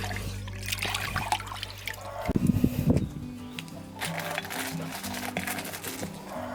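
Small lumps of red lime paste dissolve in a container of water, giving close trickling and dribbling with a brief splashy stir in the middle over a low, steady background tone.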